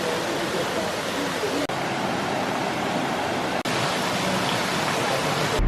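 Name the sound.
Bigar Waterfall in Romania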